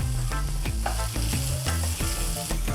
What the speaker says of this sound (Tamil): மீடியமாகவே வச்சு ஃப்ரை பண்ணுங்கள்.